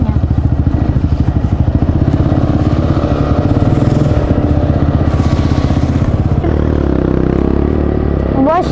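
A Kayo 180cc quad bike engine drones loudly and steadily while riding, with a fast putting pulse and a slight change in pitch partway through; a voice is faintly present beneath the engine.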